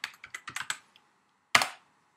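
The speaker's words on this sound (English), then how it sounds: "notice the distinction when I start typing in these scores" Scores are typed on a computer keyboard in a spreadsheet, a quick run of crisp key taps followed by a pause and one louder keystroke, close and alone.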